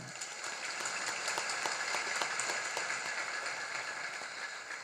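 An audience at a Hindi religious sermon claps steadily, a dense, fairly distant wash of applause sustained at an even level without pause.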